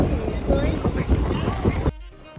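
Strong gusty wind roars across the microphone, loud and buffeting, then cuts off abruptly near the end, in Hong Kong.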